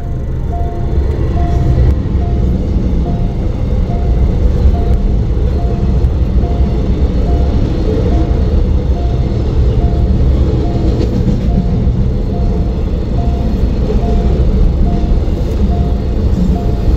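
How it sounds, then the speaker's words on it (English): A train rolls past a level crossing close by, a loud, continuous rumble and rattle of rail cars that holds steady throughout, with a faint repeating tone in the background. "Stopped at the level crossing, but we've got front row seat to see the train."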